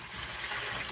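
Water poured through a strainer to catch small critters while keeping the liquid, a steady broadband splashing trickle heard close and alone for about a second.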